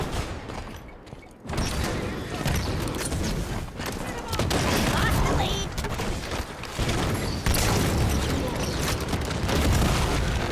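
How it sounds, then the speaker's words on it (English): Halo 5 combat bursts with repeated grenade blasts and heavy gunfire, booming explosions and rattling shots overlapping in a loud, chaotic stretch, with voices talking over the action. "My grenade shots are on point today"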